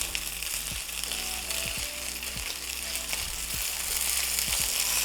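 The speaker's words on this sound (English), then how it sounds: "You're going to continue breaking up all of your ground meat until it is fully cooked." Ground meat fries over medium-high heat in a pan with a steady, bright sizzle throughout, while a utensil breaks it up with scattered soft taps and scrapes.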